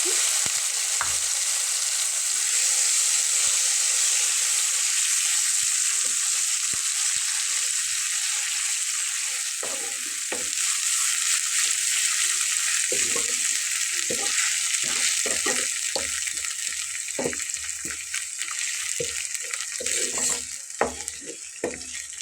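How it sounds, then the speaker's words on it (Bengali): Loud continuous sizzle of green chili paste frying in a pan over low flame, with repeated scraping and stirring knocks growing more frequent toward the end. "চুলার আঁচটাকে একটু লো ফ্লেমে রেখে বেশ ভালো করে একে কষিয়ে নিতে হবে"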